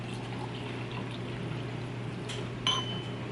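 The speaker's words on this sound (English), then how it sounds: "I already made some drip coffee. So I'm just gonna fill it on up." Drip coffee is poured into a cup as a soft, faint steady trickle under a low hum, ending with a brief clink near the end.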